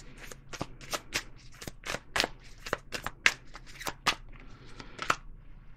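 Tarot cards being shuffled and handled at close range, a rapid run of crisp papery snaps and riffles with short pauses between bursts, fairly quiet and without talk.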